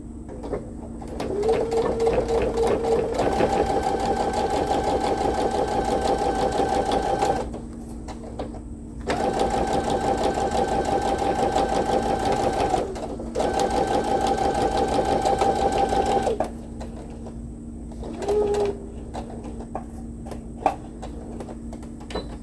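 A sewing machine stitching a fabric tote bag runs in several steady whirring bursts of a few seconds each, separated by short pauses, close and clear with a constant background hum.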